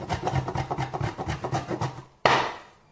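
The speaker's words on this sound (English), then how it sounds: "Now what I'm going to do is simply grate this block of beeswax" A block of beeswax being grated into a beaker, with quick rhythmic scraping strokes, about a dozen close rasps in a row, then a pause and one heavier scrape.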